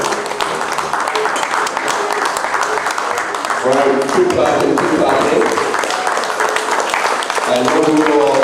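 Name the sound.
audience applause at farming symposium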